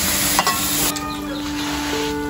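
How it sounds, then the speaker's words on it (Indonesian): Tofu filling cooks in a pan in a home kitchen, giving a steady close sizzle and light frying hiss with faint stirring clatter throughout. "Ini Uti baru masak isian tahunya ya, Tia?"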